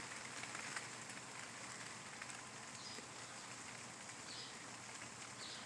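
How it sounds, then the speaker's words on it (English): Steady rain patters outside, a soft, even hiss of drops with no voices, faint and continuous. "it is raining"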